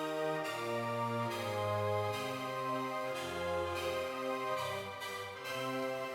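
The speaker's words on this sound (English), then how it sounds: "another keyboard during the intro, which is called 80s AirPad, which sounds like this." 80s-style airy synth pad from Logic Pro's Alchemy, sustained chords shifting every second or so with breathy attacks, full and steady, heard alone without voices.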